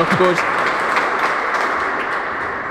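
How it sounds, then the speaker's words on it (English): Crowd at an All Ireland hardball handball singles final, a steady wash of murmur and scattered clapping in an indoor alley, loud and close, with a voice briefly at the start. "That's a bit of hush from the crowd there, please."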